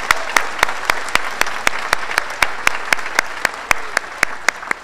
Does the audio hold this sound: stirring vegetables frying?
no